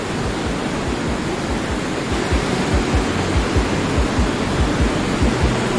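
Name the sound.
Gullfoss waterfall in Iceland, glacial river plunging into canyon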